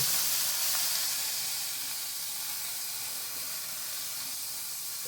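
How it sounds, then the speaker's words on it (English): Spiral cut ham dropped into a hot skillet: a steady, close sizzling hiss that is loudest at first and then settles into an even, continuous fry. "So we're just going to put our ham in there. Spiral cut ham."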